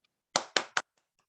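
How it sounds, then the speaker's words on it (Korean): After a church lecture on modern society and Christianity, three sharp, close hand claps ring out in quick succession in a quiet room, followed by a couple of faint, scattered taps. "우리 박수하겠습니다."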